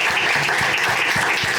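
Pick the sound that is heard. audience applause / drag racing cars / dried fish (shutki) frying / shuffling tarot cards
audience applause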